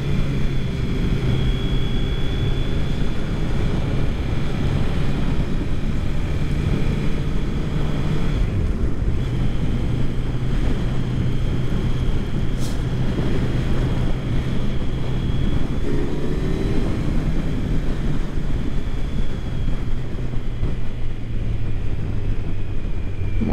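A 2019 Kawasaki Z900 motorcycle ridden on a road, steady engine drone with buffeting wind roar loud and constant across the whole stretch, a slight shift in engine pitch midway.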